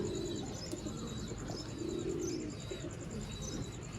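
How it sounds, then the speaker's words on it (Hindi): A rare breeder pigeon from a proven pair, Sialkoti breed, coos in low, steady, continuous rumbles close by, with faint high chirps from other birds behind it. "ये जी दोस्तों ब्रीडर कबूतर"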